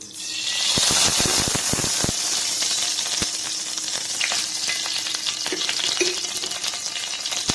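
Sliced onion fries in a little hot oil in a wok, a loud, steady sizzle close up, punctuated by clinks and scrapes of stirring, mostly in the first few seconds, with no talking.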